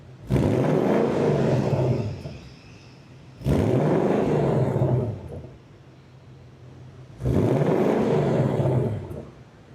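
Ford Mustang GT V8 in normal exhaust mode revs three times, each a loud, rising roar held about two seconds before dropping back to a rumbling idle, recorded from inside the car.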